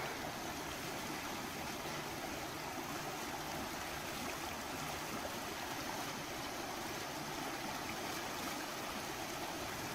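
A fast-flowing creek swollen with snowmelt rushes steadily, a dense, constant roar of churning water close by with no pauses.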